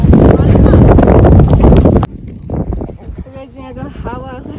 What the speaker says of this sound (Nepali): यहाँको हावाहुरी यस्तो छ